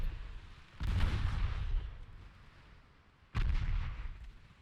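Naval guns fire at a destroyer in the video game Ultimate Admiral Dreadnoughts, two heavy booming salvos about two and a half seconds apart, each with a rumbling tail, alone without talk.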